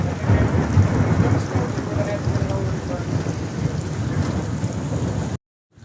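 Steady heavy rain with rumbling thunder heard from a trail shelter on the Appalachian Trail during a thunderstorm, a dense continuous wash of downpour and low rolling rumbles filling the scene before cutting off abruptly near the end.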